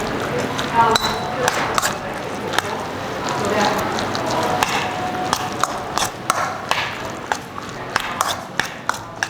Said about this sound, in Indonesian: Terus ini kita akan aduk.